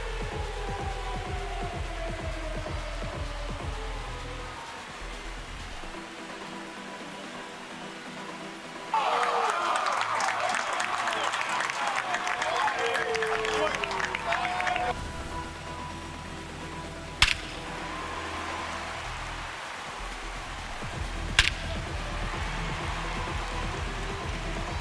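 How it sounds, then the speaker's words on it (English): Stadium crowd in MLB The Show 26 swelling into a roar after a solo home run, a dense broadband cheer building for several seconds amid steady ambient game noise, with a couple of sharp claps or pops later on. "Here comes the crowd."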